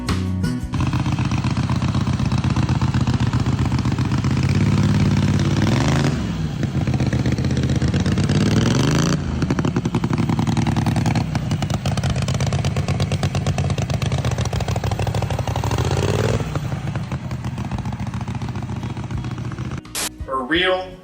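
A Blackout Sears engine running steadily at idle while breaking in, a loud continuous rough mechanical drone that holds for the whole stretch with a brief dip partway and a sharp click near the end.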